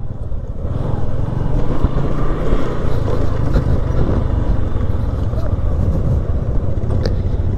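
A group of four motorcycles sets off for Punod Peak in San Carlos City, giving a continuous engine rumble and revving close by that builds as they pull away, with some talking mixed in.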